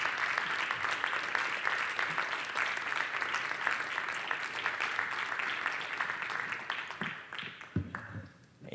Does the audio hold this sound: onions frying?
no